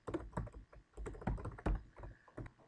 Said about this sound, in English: I'm just going to start typing in my answers